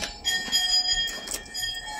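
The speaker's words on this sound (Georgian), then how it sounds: "ეს მუსიკა ქარის ზარი არ გეგონოთ ხალხმა ძროხები მიდიან." Cow bells clinking as a herd of cows walks past, with light, irregular metallic rings that overlap in a short, fairly close cluster.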